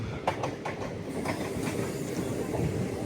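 Krishna Express passenger train running on rails, a steady loud rumble with clickety-clack wheel beats in the first second over continuous broadband rolling noise.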